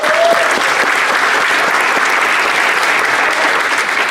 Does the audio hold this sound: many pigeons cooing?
no